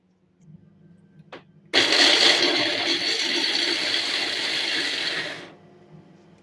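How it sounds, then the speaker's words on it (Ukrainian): A blender whirs loudly for several seconds, chopping walnuts with a steady grinding roar, then cuts off, leaving a quiet room. "я їх в блендері подрібню"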